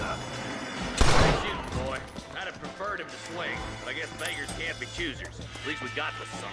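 A burst of gunfire crackles in Red Dead Redemption, one loud close volley followed by fainter game sounds, while a player talks excitedly over the action.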